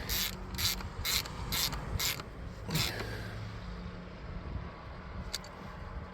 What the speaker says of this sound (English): now let me get that terminal tightened down and we'll test it.